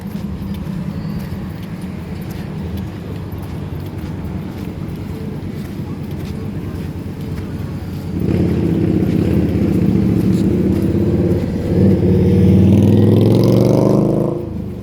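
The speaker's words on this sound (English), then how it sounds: "Few cars coming out of the side streets." Cars drive along a road in Waikiki, Honolulu, on a sunny day, with a soft street hum at first and then louder engine passes swelling up close in the second half.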